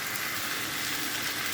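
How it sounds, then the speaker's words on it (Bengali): Turmeric, coriander and chili powder being stir-fried in hot oil for an egg and potato curry give a steady close sizzle, with a single brief scrape of stirring near the end and no talk. "ভালো করে নেড়ে ছেড়ে কষিয়ে নেব।"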